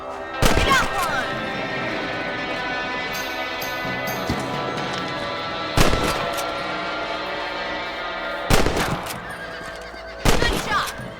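Rifle shots in Red Dead Redemption, fired at rabbits while riding with a companion. Four loud, sharp reports land several seconds apart over a steady bed of hoofbeats, horse whinnies and game ambience.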